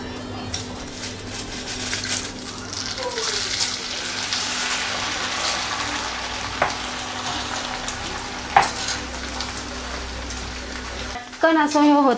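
Corn for chivda frying in oil makes a continuous sizzling crackle with light stirring and clinks. A voice speaks briefly, and the sizzle stops abruptly near the end.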